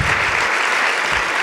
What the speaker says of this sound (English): help me with about 20 seconds here of applause for these fine people who are giving you the documentation